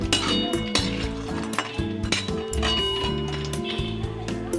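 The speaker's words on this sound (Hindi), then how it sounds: "2 मिनट तक लगातार चलाते हुए इसे भून लें इस तरह से।" Radish muroori being stirred and fried in oil in a kadhai: repeated clinks and scrapes of a metal spoon against the pan over a soft sizzle, with a voice talking throughout.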